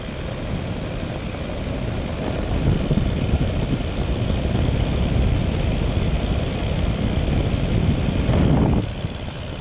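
A Tiger Moth biplane in flight, its engine and propeller giving a steady, loud, rough drone that fills the whole stretch with little change, no voices over it.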